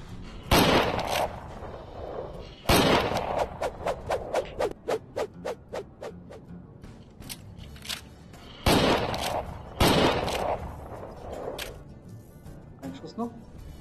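Gunshots in a Wild West setting inside the Private Property VR game, with loud sharp reports and fast rattling volleys, then a run of evenly spaced single shots, some followed by fainter echoing bursts.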